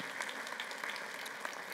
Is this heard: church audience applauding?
yes